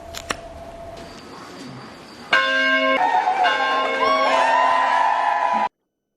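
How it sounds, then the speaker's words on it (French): Newly inaugurated church bell of La Résurrection parish in Ituri, rung at its blessing ceremony; a brief chime first, then loud, sustained bell tones with ringing overtones before cutting off abruptly. "la paroisse La Résurrection a une nouvelle cloche"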